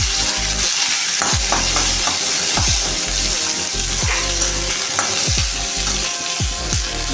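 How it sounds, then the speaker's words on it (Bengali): Chopped onions fry with dried chillies in a pan, a steady loud sizzle broken by repeated scraping stirs at an even rhythm, with no talk. "দেখুন, পেঁয়াজ ভাজা হয়ে এসছে প্রায়"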